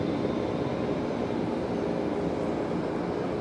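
A helicopter returns in Jurassic World Evolution 3, a steady broadband rotor and engine roar that stays loud and unchanging for the whole stretch, with no talk over it.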